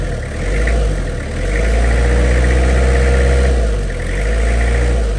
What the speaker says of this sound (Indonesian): kalau memang mau geber untuk Kijang ini, dia di momnya bisa dengar sendiri, suaranya masih sangat gurih